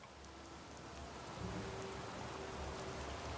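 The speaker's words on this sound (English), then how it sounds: "Now it is raining, which is kind of annoying" Steady rain with a low rumble of thunder during a naval battle in the Total War: Rome video game, a soft continuous hiss with no talk.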